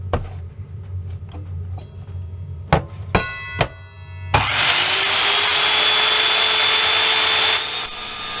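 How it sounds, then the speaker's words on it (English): Power tool cutting metal in a workshop, preparing pieces for a Sealey Mighty Mig 150 MIG welder test: a few sharp clanks and knocks first, then a loud, steady abrasive whine that runs continuously for several seconds, close by. "Just cut in some metal so we can try the welder to see how it goes."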